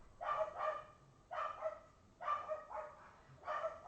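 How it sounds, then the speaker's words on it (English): Several dogs bark in repeated bursts, a few sharp barks in each group with short gaps between, fairly close and clear over a quiet background without talk. "I feel like, though, with those dogs barking, they're at least loyal."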